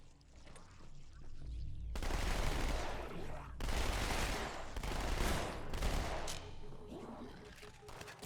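Gunfire fills a Halo 2 firefight, with heavy sustained shooting in dense, rolling bursts that swell and ease but never fully stop.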